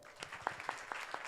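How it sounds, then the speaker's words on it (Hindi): A congregation at a Jain religious discourse claps in a quick, even rhythm, a few faint, distinct handclaps spaced at regular intervals. "ताली बजाओ"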